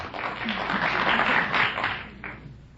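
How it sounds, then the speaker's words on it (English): Studio audience at a radio comedy quiz show breaking into brief applause, a swelling burst of clapping that fades out within a few seconds. "Some people out there from Fond du Lac were applauding."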